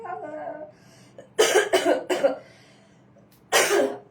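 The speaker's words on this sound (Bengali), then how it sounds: "কি একটা অবস্থা, কাশি" A voice speaks briefly, then a burst of three harsh coughs follows, and after a pause one more loud cough, close to the microphone.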